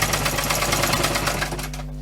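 A sewing machine hums with a rapid, even stitching rhythm while sewing a bushcraft water bottle pouch along a folded corner, slowing near the end.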